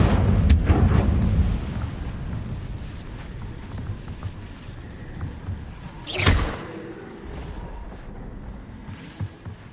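Incendio fire spell cast in Hogwarts Legacy, a fiery burst with a sharp whooshing blast near the middle, set among other low rumbling combat sounds and a heavy thump at the start.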